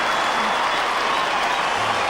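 Australian football crowd at an Adelaide Crows versus Fremantle Dockers match in 2000, reacting to a long goal kick from 50 metres with steady, dense applause and crowd roar filling the stadium throughout.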